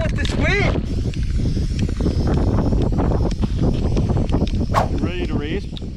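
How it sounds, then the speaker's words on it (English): Strong gusty wind roars across an outdoor microphone at an ATV drag race, loud and steady throughout, with people talking over it. "I can't with this wind!"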